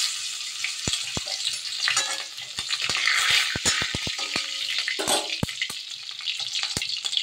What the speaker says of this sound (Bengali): রান্নাঘরে এসে সর্ষের তেল বসিয়ে দিয়েছি কড়াইয়ে, সর্ষের তেলই ভাজতে হবে।